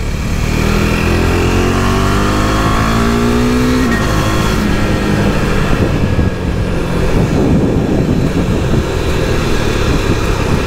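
A motorcycle with an aftermarket exhaust revs hard and loud up close, its throaty exhaust note rising in pitch, then settling into a rough, rumbling roar.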